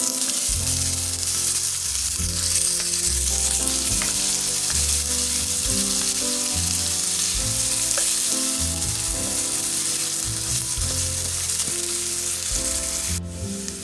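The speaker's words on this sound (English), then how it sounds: "now all we're going to do is add in our diced onion. And we're going to saute that for about 2 minutes" Diced onion sautés in a pan for baked ziti, a loud, continuous close sizzle with stirring sounds over steady background music and no talking.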